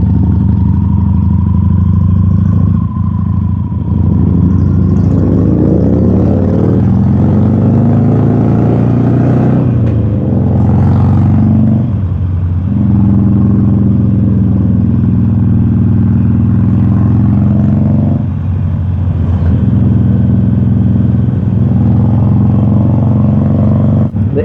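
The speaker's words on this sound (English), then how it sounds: "The interesting thing about the Iron 883 is that this is a street bike." Harley-Davidson Iron 883 street motorcycle ridden on a road in Bali toward Uluwatu temple, its loud engine steady and close throughout, rising and falling in pitch through shifts and throttle changes, with some clatter and road noise.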